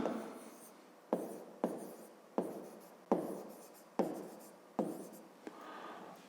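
A pen writing on paper during a fifth-grade maths exercise, a series of short scratchy strokes, each starting sharply and trailing off, close and fairly quiet.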